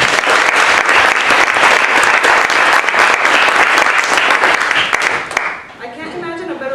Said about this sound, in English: So everyone please join me first in giving these four radical women a big